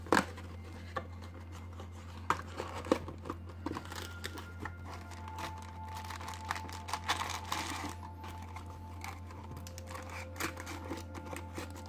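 Quiet crinkling and tearing of plastic wrap as a sealed Yu-Gi-Oh! card display box is opened, with irregular close rustles and small clicks scattered over a low steady background hum.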